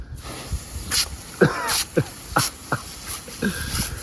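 A dog splashes and paddles in a river as it swims after a thrown object, giving repeated watery hissing bursts at an uneven rhythm close to the microphone, with brief bits of a voice in between.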